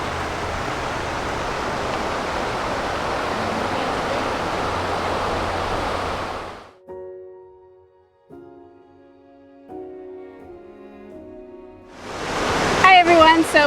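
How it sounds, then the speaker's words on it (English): A roadside waterfall in the Great Smoky Mountains roars as a loud, steady rush of water, then cuts off abruptly to near quiet before the rushing returns at the end. "we just saw this waterfall as we were driving down the road, so Nathan did a quick U-turn"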